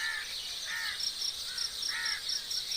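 Birds calling at dawn beside a pond, with repeated short cawing crow-like calls over a steady bed of high insect or bird chirring, moderately near and continuous.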